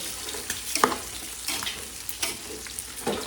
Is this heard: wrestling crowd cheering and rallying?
no